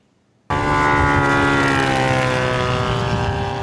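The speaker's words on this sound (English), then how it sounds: "The sound made by the model airplanes featured in this year's four-day event." Model warplanes flying at the Warbirds and Classics over the Midwest air show in Fond du Lac: a loud, steady droning engine whine that starts abruptly and holds continuously, with shifting harmonic tones and no talk.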